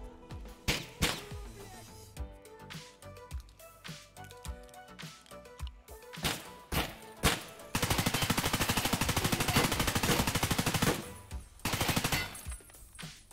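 Heavy video game gunfire aimed at the boss Killa on the Interchange map, single loud shots and short bursts at first, then a long sustained fully automatic stream, followed by more scattered bursts, close and with no talking.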